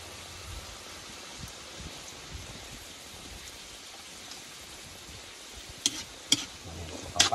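Tuyo, dried fish, sautés in a hot pan with a faint steady sizzle and crackle, broken near the end by a few sharper pops and clinks of a utensil stirring against the pan.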